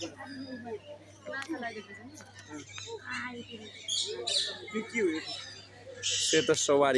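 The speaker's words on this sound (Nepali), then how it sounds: "यसलाई चाहिँ कण्ठेस्युगा भन्दो रहेछ" A ring-necked parakeet gives sharp, shrill screeching calls, mostly in a burst near the end, while someone talks over them throughout; several softer chirps from other birds sit in the background.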